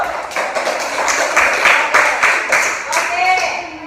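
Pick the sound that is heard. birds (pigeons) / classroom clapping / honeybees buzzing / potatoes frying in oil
classroom clapping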